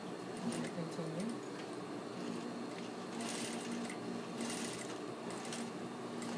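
A sewing machine runs steadily along a front dart, a continuous mechanical whir with faint rhythmic clicking that stays even from start to finish, with no talk over it.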